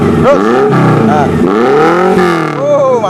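A 1980 Suzuki LJ80 Jimny 4x4 with a full header set and racing exhaust revs loudly and repeatedly close by, its engine note climbing and falling with each blip, while people talk over it.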